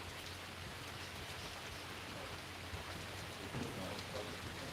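Rain falls steadily outdoors, a continuous soft hiss of drops on surfaces that stays even and fairly faint throughout.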